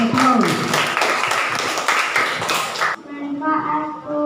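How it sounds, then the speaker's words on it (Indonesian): Classroom applause, a burst of scattered clapping from a group of students lasting about three seconds before cutting to quieter room sound with a voice. "Kasih aplaus teman-teman."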